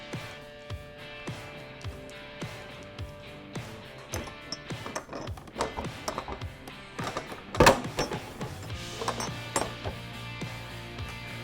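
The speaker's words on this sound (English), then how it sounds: "I'm going to slowly loosen all 4 of these bolts so I can pull the windshield off" Four bolts on a Harley-Davidson Road Glide windshield are loosened with an Allen key, giving scattered metallic clicks, small ratchety ticks and clunks at close range, with one sharper knock partway through and no talking.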